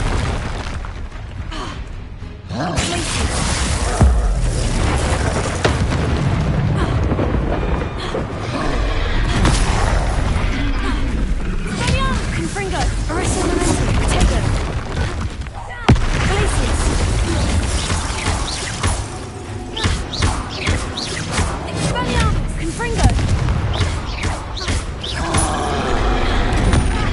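Repeated Confringo blasting-spell explosions in Hogwarts Legacy, a dense, loud stretch of booms, crackling bursts and clattering combat effects layered over a constant game score.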